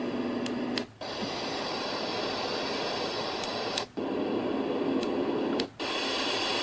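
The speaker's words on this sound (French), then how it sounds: "C'est des bruits entièrement synthétiques, bruit blanc, bruit rose, etc." A HOMGEN white noise machine plays steady synthetic white noise, a dense continuous hiss broken by short clicks and brief dropouts as settings change, with faint beeps at each switch.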